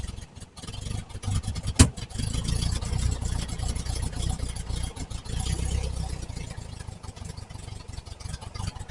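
A 1968 VW Type 3 engine with fuel injection idles steadily with a low, rumbling drone, slightly uneven, with a brief sharp pop early on.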